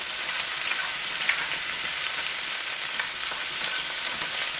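Morel mushrooms sauté in a pan with a steady, even hiss of sizzling fat that holds at moderate loudness throughout, with no talking.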